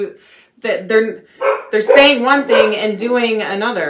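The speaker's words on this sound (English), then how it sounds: "Sorry about my dogs." Dogs barking indoors in several short, sharp bursts that break in and out while a person keeps talking over them close to the microphone.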